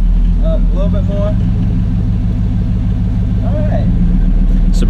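An old beater golf cart rolling through woods, a loud continuous low engine rumble and rattle close by, with people talking briefly over it.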